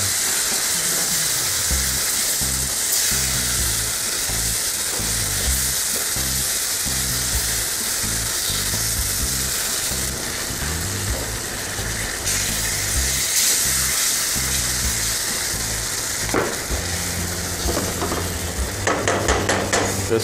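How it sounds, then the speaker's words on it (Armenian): Broth being added bit by bit and stirred into a mixture in a pan: a continuous close scraping and sloshing with a soft sizzle, rhythmic strokes running throughout, louder clattering toward the end. "ավելացնում ենք արգանակ, խառնելով, քիչ-քիչ ավելացնում ենք և խառնում ենք"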